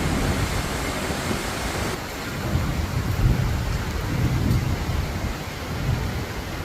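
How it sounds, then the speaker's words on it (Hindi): Steady heavy rain hisses throughout, with low rumbling swells of distant thunder rolling underneath. "बारिश।"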